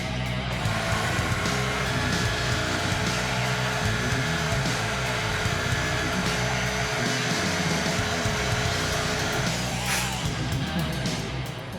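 A router bit cutting an ash wood inlay in continual passes, producing a loud, steady, high motor whine that runs unbroken for several seconds before easing off at the end.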